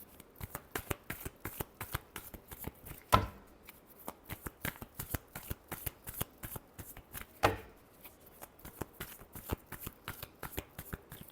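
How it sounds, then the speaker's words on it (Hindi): Tarot cards shuffled steadily in a quick rhythmic riffle of crisp flicks, with two heavier slaps where the deck is squared, close and moderately quiet with no talking. "last shuffle"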